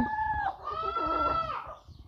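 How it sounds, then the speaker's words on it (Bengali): Chickens of a foreign breed, one rooster and two hens, cluck and call close by, with one bird giving a drawn-out, wavering crowing cry over soft background rustle. "একটা মোরগ আছে, দুইটা মুরগি আছে।"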